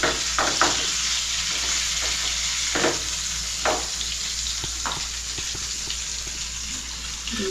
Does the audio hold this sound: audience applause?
no